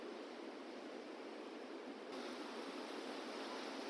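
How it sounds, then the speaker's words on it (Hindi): The Saraswati River rushes near Badrinath by Mana village and Bhim Pul, a steady, deep roar of flowing water that swells slightly louder toward the end, with no voices. "सरस्वती नदी की जो आवाज़ है, वो बिल्कुल एक गहरी सी आवाज़ है"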